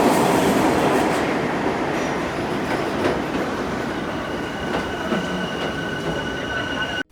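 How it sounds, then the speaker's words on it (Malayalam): A New York City subway train pulls into the Times Square station, a loud steady rumble of wagons with metallic wheel squeal and clatter, close by and ending abruptly, with no voices. "അങ്ങനെ പെട്ടെന്ന് തന്നെ നമ്മുടെ മെട്രോ വന്നിട്ടുണ്ട്."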